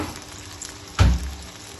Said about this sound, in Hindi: इसको हमने 8 से 10 मिनट अच्छी तरह फ्राई करना है।